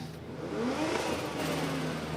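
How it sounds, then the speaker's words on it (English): Drift car engine revving at the start line of a Drift Masters event in Riga, a faint, distant rising and falling rev heard with no talk. "I'm hearing some revs"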